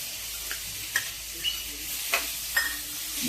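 Pineapple and roasted semolina sauté in ghee with a steady soft sizzle, while a spoon scrapes and taps the pan in a few distinct, evenly spaced strikes close by.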